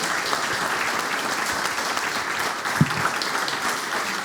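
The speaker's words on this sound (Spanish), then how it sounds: "Les damos un aplauso a nuestras 3 invitadas, les agradecemos." Steady applause from a crowd at a Chilean government project presentation event, a dense even patter of clapping that holds throughout at moderate loudness.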